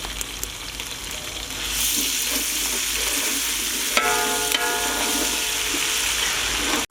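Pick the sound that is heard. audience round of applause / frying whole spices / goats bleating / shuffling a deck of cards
frying whole spices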